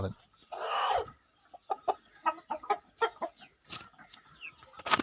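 A native-breed rooster clucks in a string of short, close calls, opening with one louder, drawn-out squawk and ending with a sharp burst.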